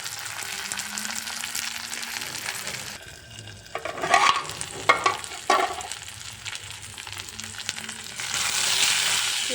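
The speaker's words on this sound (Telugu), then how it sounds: "పుదీనా లైట్గా ఫ్రై అయ్యింది, ఇంకా కొంచెం ఫ్రై అవ్వాలి" Mint leaves frying in a pan give a steady sizzle, broken midway by a few sharp clatters of stirring before the hiss rises again toward the end; no one speaks.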